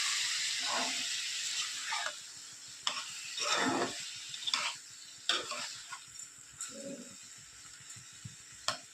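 Rohu fish head and spinach curry in a pan, bursts of bubbling and spoon stirring coming in irregular clumps over a faint low sizzle, with a few soft voice-like sounds among them.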